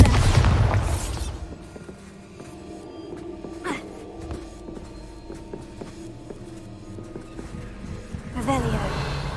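A Bombarda spell explosion in the video game Hogwarts Legacy: a loud booming blast at the start, then a lower stretch of game ambience with small clatters, and a second swelling burst near the end.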